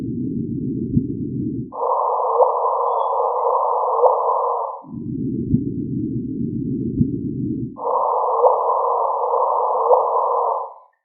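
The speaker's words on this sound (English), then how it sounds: "This is the sound of the first gravitational signal that we observed." The first observed gravitational wave signal, converted to audio, plays as a continuous low buzz of instrumental noise. It switches back and forth between a deep band and a higher band in long, even blocks, with no one talking.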